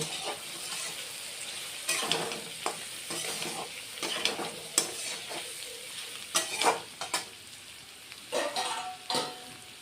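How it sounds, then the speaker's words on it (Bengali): Fish curry masala with Kashmiri chilli powder fries and is stirred in a pan: a continuous close sizzle under repeated scraping and clattering strokes of a spatula, growing busier toward the end, with no one talking. "কাশ্মীর লঙ্কার গুঁড়ো দিয়ে দিলাম দিয়ে এখন আর একটু কষিয়ে নিব"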